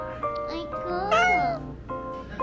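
A cat on Purple Island in Korea gives a clear, drawn-out meow with a rising and falling pitch, with people's voices talking around it.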